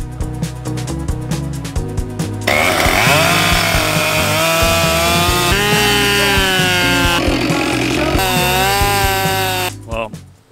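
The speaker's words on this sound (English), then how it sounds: "I'm gonna make the cut thicker so I don't have to try and spread it open" A chainsaw cuts into a dry, seasoned wood log to make a Swedish torch fire log. After a few light knocks, the saw roars loud and close for about seven seconds, its pitch dipping and rising as it bites, then it cuts off.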